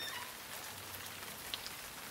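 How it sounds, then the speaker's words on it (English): Rain falls outside on a spring morning, a faint steady patter of drops with a couple of tiny brighter ticks, no voices. "It was raining."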